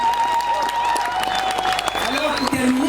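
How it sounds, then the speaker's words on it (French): Guests applauding at a traditional wedding ceremony, clapping mixed with crowd noise and tonal background sounds, with voices present. "On applaudit pour eux."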